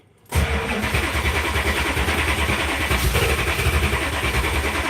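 A flooded engine cranks and churns loudly and continuously after a brief quiet start, with a steady low rumble but no clear catch, in a backyard.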